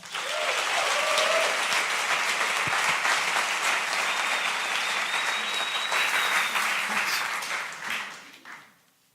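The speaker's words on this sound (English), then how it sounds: "Let's give a big round of applause for my friend, Brett Trapp." Sustained audience applause from a crowd at a talk, loud and steady for about eight seconds before tapering off at the end.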